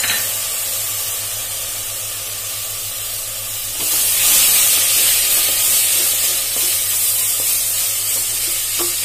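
Finely chopped tomatoes hit a hot pan for Sindhi chana dal and are stirred. A soft steady hiss jumps to a loud, bright sizzle partway through, then keeps frying with faint scraping and no voices.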